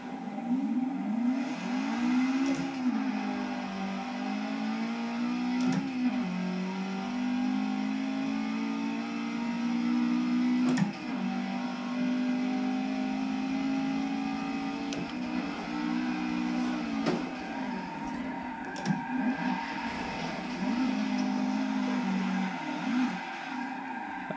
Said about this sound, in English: We're gonna see just how different the car drives.